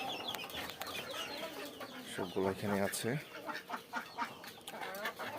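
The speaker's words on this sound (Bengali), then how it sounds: "মুরগিগুলো" Chickens cluck and chatter close by in a small flock, short busy calls overlapping, while a person speaks briefly over them.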